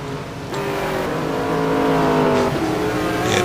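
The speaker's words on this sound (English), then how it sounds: "He has got that McLaren sliding all over the place." A McLaren GT1 race car in a sim race at Mugello, its engine revving hard and steadily with shifting pitch as it slides through a corner, loud and close.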